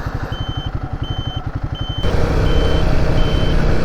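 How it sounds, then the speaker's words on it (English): A warning buzzer on a Royal Enfield Guerrilla 450 motorcycle gives about five short, evenly spaced beeps, first over a pulsing idling engine and then over a louder, steadier engine roar. "Buzzer."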